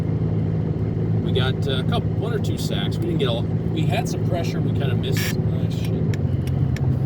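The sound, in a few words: car driving, interior road noise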